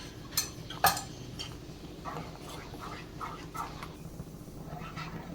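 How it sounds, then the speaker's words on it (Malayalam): Mango halwa being stirred in a pan with a spoon, giving light scraping clinks and a couple of sharper metallic taps early on, faint and close with no talk. "നമുക്ക് തുടർച്ചയായിട്ട് ഇളക്കിക്കൊണ്ടിരിക്കാം."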